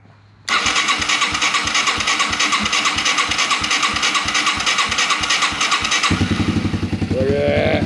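A Yamaha YTM225DX three-wheeler cranks on its electric starter in a long, rhythmic churning whir, then catches and settles into a loud, close, fast-pulsing idle.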